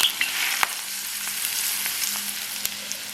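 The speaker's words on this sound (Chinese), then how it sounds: "然后给上边浇上滚烫的热油" Scorching hot oil poured over a bowl of coarse and fine chili flakes, minced garlic, white sesame seeds and salt for a dipping sauce, giving a steady, close hiss of frying with a few sharp crackles, with no talking.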